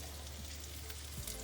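Caramelized onions sizzle steadily in a frying pan, a faint, even crackle with no talking.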